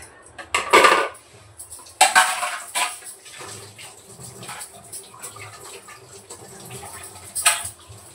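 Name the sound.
scrubbing and washing food processor jar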